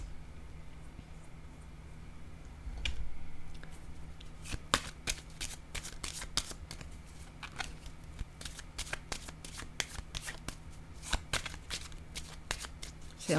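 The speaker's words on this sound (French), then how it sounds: "Je vais déposer une carte ici." Tarot cards shuffled and laid down one after another on a table, a steady run of sharp, close riffling flicks and light slaps, with no voice.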